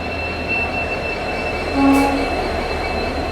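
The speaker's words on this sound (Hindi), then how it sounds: "1107 डाउन, डेक्कन एक्सप्रेस आ रही है डीजल लोकोमोटिव के साथ, WDP 4D।" Deccan Express arriving at a platform behind a WDP 4D diesel locomotive, a steady low rumble of rolling wagons with a brief squealing tone of wheels rising midway, no voices.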